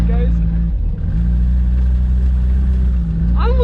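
An Opel GT engine fitted with a Weber 32/36 carburetor drones loud and steady from inside the car as it drifts, not yet fully warmed up, with a short voice at the very end.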